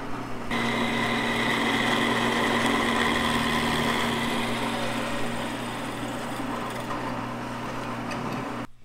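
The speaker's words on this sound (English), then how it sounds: "This is a job for the drill press" A drill press runs with a steady mechanical whine and low hum continuously for several seconds, fairly loud and close, then cuts off at the end.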